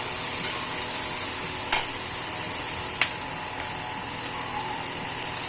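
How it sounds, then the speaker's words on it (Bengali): Onions lightly frying in a pan give a steady, close hiss of sizzling oil that runs throughout, with a couple of faint clicks and no voices. "পেঁয়াজটা হালকা ভাজা ভাজা করবো"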